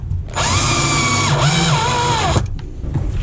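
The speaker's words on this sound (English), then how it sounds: "So we'll just finish screwing those in." Power drill driving screws into a bookcase secret door latch: a steady, loud whine for about two seconds with pitch dips as the bit loads, then a stop and quiet handling noise.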